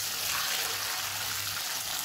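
Constant loud sizzling and crackling of rice stir-frying in hot oil in a wok, with a faint scraping undertone as it is stirred.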